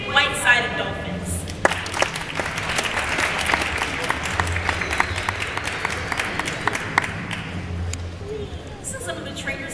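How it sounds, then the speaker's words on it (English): An audience at a dolphin show with Pacific white-sided dolphins breaks into applause, scattered clapping that builds and then thins out, with a voice talking over it near the start and again near the end. "by a round of applause"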